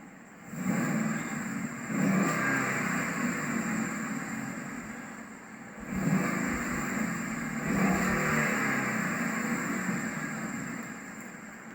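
A powerful 5.0 V8 engine in a 2013 Ford Mustang GT revs up twice from idle, each surge rising and then falling back, loud and close with no voices.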